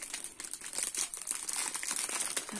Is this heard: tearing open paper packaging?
yes